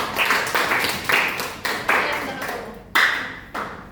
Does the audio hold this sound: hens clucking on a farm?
no